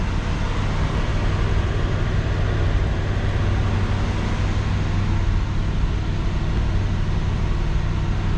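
A 1966 Ford Galaxie idles in neutral with the parking brake set, giving a steady, continuous low engine rumble that holds even and close for the whole stretch, with no voices over it.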